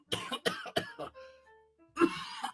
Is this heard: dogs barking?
no